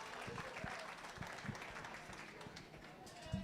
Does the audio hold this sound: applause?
yes